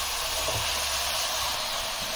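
Fenugreek leaves and spinach hit a hot pan with a steady, bright sizzle and hiss that holds evenly throughout, close and constant, with no talking.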